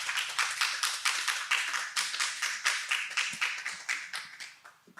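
An audience claps warmly and steadily throughout as a professor is welcomed to a lecture at a Korean unification mission conference. The applause is dense and sustained, swelling and easing in gentle waves.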